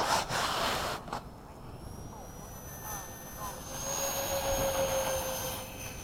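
A 70mm model jet aircraft at a flying field spools up and takes off, its loud jet whine rising in pitch and then drawing away, with people talking nearby throughout.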